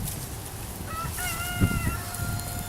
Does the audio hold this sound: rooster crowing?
yes